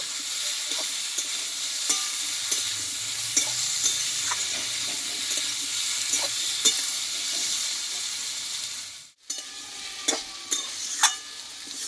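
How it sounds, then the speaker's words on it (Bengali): Papaya pieces, first boiled with turmeric and salt, being stir-fried in a pan, with a steady sizzle under repeated spatula scrapes and clacks over twelve seconds and a brief dropout near the end, with no talking. "পেঁপেটাকে ভালোভাবে কষিয়ে দেব"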